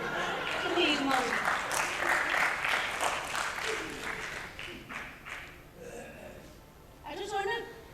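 Theatre audience applauding a play, a dense wash of clapping that fades in the second half as a voice speaks over it.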